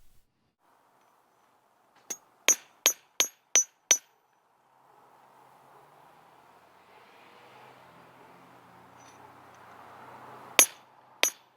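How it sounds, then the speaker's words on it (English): A steel hammer strikes metal on an anvil to straighten small kinks and wiggles: a quick run of six sharp ringing blows, a pause with low rustling, then two more clangs near the end, close and loud, with no talking. "I'm using a steel hammer and anvil here because I can straighten out the smallest kinks and"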